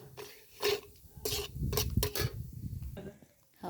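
Masala with onion and coriander roasting in a pan in a home kitchen, heard as scattered metallic clinks of a spoon against the pan and soft stirring scrapes in short bursts, with faint talk now and then.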